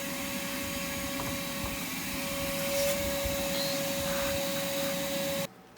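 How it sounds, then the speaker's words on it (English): Vacuum cleaner running steadily while cleaning an Asteroids Deluxe arcade cabinet, a loud, even motor whine with a constant tone that holds for several seconds and then cuts off abruptly near the end. "I want to use the vacuum."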